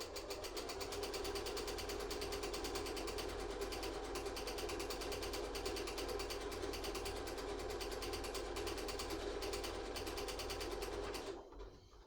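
A sewing machine stitches a quarter-inch seam on a fabric table runner with right sides together, a steady close whirring hum running continuously for about eleven seconds before slowing and stopping at the end.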